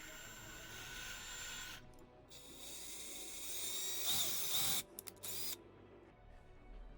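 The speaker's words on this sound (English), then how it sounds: "You're just going to take your drill and drill right through the plastic." Power drill boring through the plastic of an airsoft helmet mount, a steady whining buzz that runs for several seconds, then stops and restarts in short bursts before cutting out, close and fairly loud with no talk.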